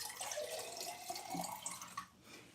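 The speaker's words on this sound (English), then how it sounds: "Then I'm going to just put some water. I'm going to use my filtered water." Filtered water pours into a jar in a soft, continuous trickle with a few drips near the end, faint and close, without talk.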